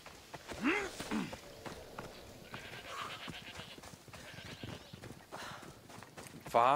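A horse's hooves clip-clop across ground in the video game Assassin's Creed Odyssey, a run of quick steps mixed with game sounds and a sudden loud burst at the end.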